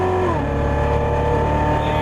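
A 2015 Chevrolet Corvette Z06 (C7) roars loudly and steadily on track at Las Vegas Motor Speedway, its high-revving engine pitch climbing and shifting through upshifts as it accelerates hard.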